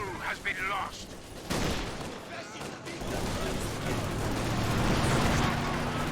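Grenade blast and rifle fire in a Company of Heroes 2 battle, a sharp explosion followed by a thick, sustained rattle of gunfire, with someone talking briefly at the start.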